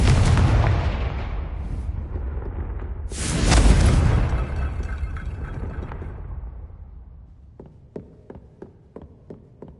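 A Confringo blasting curse erupts in Hogwarts Legacy: a loud, close explosion with a second heavier boom a few seconds later, a long fading rumble, then a quick run of light ticking debris taps.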